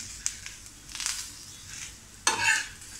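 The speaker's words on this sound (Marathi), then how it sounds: "ते थोडं परतून घेऊया" Dried coconut being roasted in a hot pan gives soft scraping stirs and light dry crackles, with a sharper scrape near the end, quiet and close, no voices.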